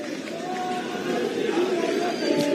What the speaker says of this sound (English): people clapping behind me and shouting their slogans